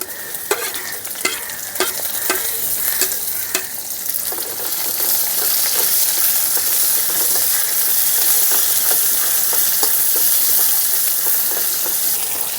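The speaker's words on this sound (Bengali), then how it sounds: "আর দিয়ে দিচ্ছি পেঁয়াজ কুচি।" Chopped onion with garlic paste and black cumin frying in hot oil in a wok, a steady close sizzle with scraping stir strokes, louder once the onion goes in, no talking.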